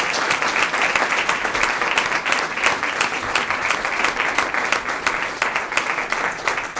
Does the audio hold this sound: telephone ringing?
no